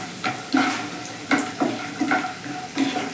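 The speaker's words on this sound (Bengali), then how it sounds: "কাজু বাদামটাকেও আমি বাদামের সঙ্গে একদম হালকা করে ভেজে নেবো" Cashews and peanuts fry lightly in oil in a pan for Bengali chire polao: a soft, steady sizzle broken by repeated scraping stirs, close up with no talking.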